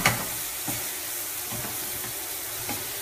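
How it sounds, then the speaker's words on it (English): Cauliflower and potato cooking down in a pan for aloo gobi, giving a steady, even sizzle and hiss with a few light stirring knocks, close up and without talk. "We're waiting for it all to cook down."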